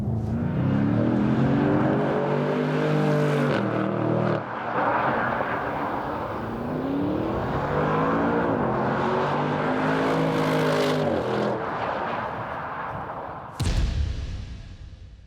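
A powerful V8 engine, from an Audi RS7 or BMW M850i, roars and climbs steadily in pitch under hard acceleration through second gear, then cuts out abruptly near the end.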